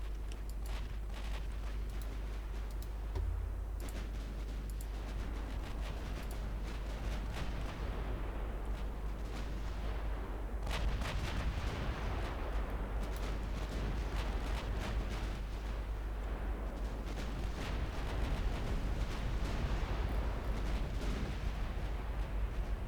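Warship guns fire in the Ultimate Admiral Dreadnoughts naval game, set in 1960 Italy: a steady low rumble of artillery and explosions, continuous and fairly loud, with no distinct isolated shots standing out.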